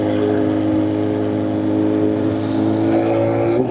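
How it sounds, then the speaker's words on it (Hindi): A loud BMW S1000RR motorcycle engine revving on a night ride, a sustained, strong, even engine roar with steady harmonic whine that rises slightly near the end, close and alone without speech. "डर का माहौल है दोस्तों, क्योंकि बाइक बहुत लाउड है।"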